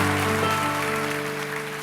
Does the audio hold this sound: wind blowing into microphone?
no